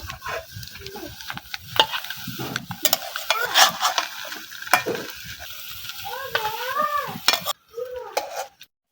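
Bread fritters (bora) frying in hot oil, a busy crackling sizzle with bursts of stirring and clinking utensils throughout; a cat meows several times near the end.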